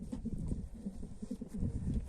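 A caged black pied pigeon cock, a yearling bred in 2002, coos in low, repeated throaty pulses close by, with faint rustling around it.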